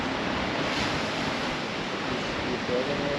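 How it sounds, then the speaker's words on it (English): Ocean surf breaks at Kitty Hawk beach on an afternoon, a continuous loud wash of waves with some wind rumble on the microphone and no clear voices. "Watch the waves"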